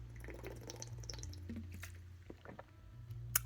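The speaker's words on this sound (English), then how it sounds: "I'm just having my like water vitamin drink." Slurping and sipping of a vitamin water drink close to the microphone, a few wet, squishy sucking sounds and small drips over a low steady hum, no talk.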